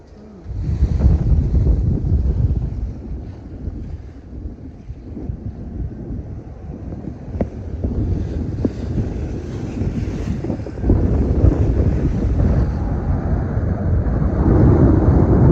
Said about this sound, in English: It's one of the windiest anchorages here. The trade winds are always blowing like 25, 30 knots.